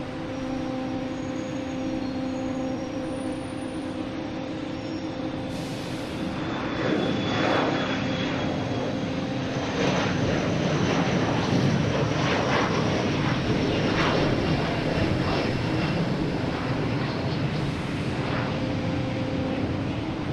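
The engines of a McDonnell Douglas MD-11 at Boston Logan Airport give a steady jet roar with a high whine, rising in the middle and staying strong over about twenty seconds, at moderate distance.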